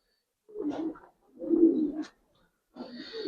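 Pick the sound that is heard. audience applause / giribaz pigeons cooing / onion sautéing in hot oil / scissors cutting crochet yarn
giribaz pigeons cooing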